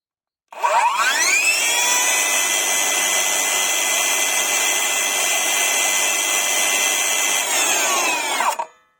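A Parkside Performance 40V cordless circular saw spins up from rest, runs at a steady high-pitched whine for about eight seconds with no load, then cuts off and winds down, loud and close.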